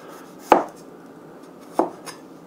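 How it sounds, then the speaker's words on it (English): A knife slices through ginger on a cutting board in two sharp, close thuds about a second apart, followed by a fainter third tap, with no talking. "So I like to slice my ginger fairly large pieces."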